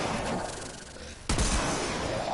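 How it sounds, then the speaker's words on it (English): A single loud energy-weapon blast from uncharged Staticor shots in Warframe, with a sharp broadband onset at mid-clip and a sustained rumbling tail over constant game background noise. "even this, the uncharged shots can one-shot them"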